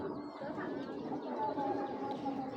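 Pigeons in a loft, soft cooing and low bird calls, faint and fairly close, with a quiet background murmur.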